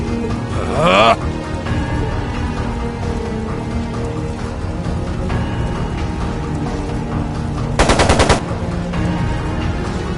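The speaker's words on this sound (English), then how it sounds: "It sounded like a machine gun." Machine gun fire in the video game Trails of Cold Steel 2: two rapid bursts of gunshots, one near the start and a louder one later, over a continuous bed of game music and ambience.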